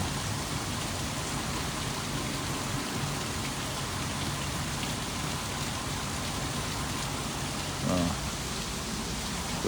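Steady, dense rain pours down during a storm near Pensacola, with a continuous broadband hiss filling the whole stretch and one brief low thump near the end.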